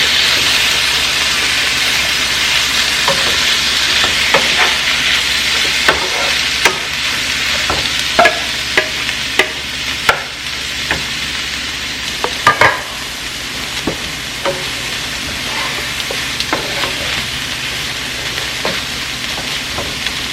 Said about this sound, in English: you want to add all your vegetables in at the same time and just give it a good mix.